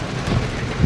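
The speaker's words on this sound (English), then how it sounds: "We are getting some rain." Rain pours during a storm, a dense, steady hiss of drops with low rumbling underneath, heard alone and fairly close for a brief moment.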